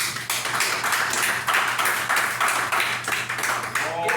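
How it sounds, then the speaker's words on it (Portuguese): A congregation at a Wednesday evening church service applauds, with a steady, fairly loud patter of many hands clapping in uneven pulses and a low hum underneath, voices mingling faintly. "Se possível, dê um aplauso para o nosso Deus."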